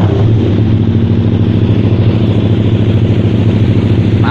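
Honda Tiger motorcycle with a two-cylinder V-twin engine set up for touring, running in a loud, steady, close idle with an even throbbing pulse.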